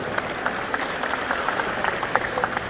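A banquet audience at a Kyrgyz community gathering in Pittsburgh claps steadily, a dense, moderately close patter of many hands continuing evenly throughout.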